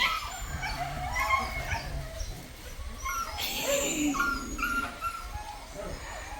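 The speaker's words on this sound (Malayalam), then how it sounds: "അവനൊന്ന് കുരയ്ക്കും, പേടിപ്പിക്കും അവരെ." A dog gives a few short yips and whimpers amid outdoor background noise, moderately close and not very loud.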